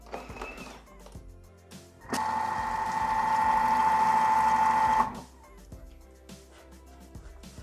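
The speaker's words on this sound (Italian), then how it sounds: "la panna che deve essere ben fredda, e la facciamo montare senza tempo e senza misurino" A Thermomix whips cold cream at speed 3.5, giving a steady motor whir that starts abruptly, holds an even tone for about three seconds, then cuts off into a quiet kitchen.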